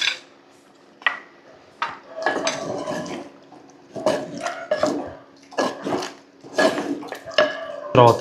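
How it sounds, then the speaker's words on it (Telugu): Prawns being stirred with salt and chili powder in a metal pan, with repeated scraping and clanking of a spoon against the pan in uneven bursts, close and clear, with brief pauses between strokes. "ఈ ఉప్పు కారం కలిసే విధంగా బాగా తిప్పుకోవాలి."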